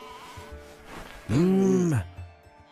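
A single loud, drawn-out sheep bleat rises and falls for about a second, set between quieter stretches of people talking in a dramatized biblical scene.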